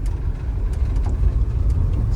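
1956 Chevrolet Bel Air hardtop with its engine running, a steady low rumble heard from close by inside the car, even and unbroken with no clear revving.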